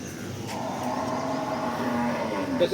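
A large cow moos in one long, low, drawn-out call, fairly close, with a faint rumble of engine noise behind it.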